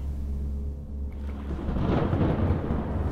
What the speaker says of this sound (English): That thunder's loud.